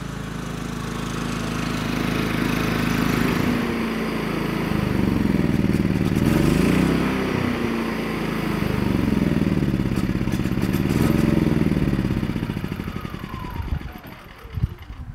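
Firman portable generator engine running on gasoline until the fuel runs out, a loud steady rumbling drone that surges and wavers, then sputters and dies near the end.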